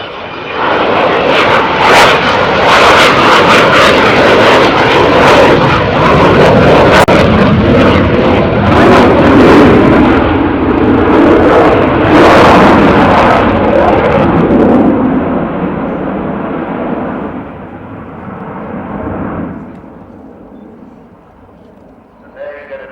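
A fixed-wing aircraft drones loudly overhead as its main undercarriage retracts, wheels tilting back and folding forward; the steady engine roar holds for most of the time, then fades as the plane moves off, with people talking underneath.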